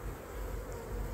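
Honeybee colony humming steadily at an open hive in an apiary, a dense continuous low drone of many wings with no talk over it.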